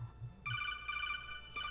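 A phone ringtone rings, a bright electronic tone pattern with several stacked pitches that sounds for about a second and then briefly repeats, close and clear over faint low background rumble.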